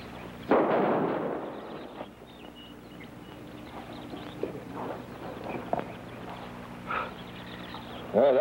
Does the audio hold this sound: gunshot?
yes